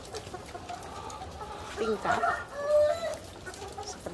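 Chickens being fed corn cluck and call softly in short bursts, somewhat distant, with someone speaking over them.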